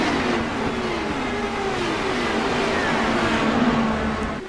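A race car engine in the iRacing Indy 500 game drones steadily at high revs, a continuous loud whine with slight pitch shifts and no talking over it.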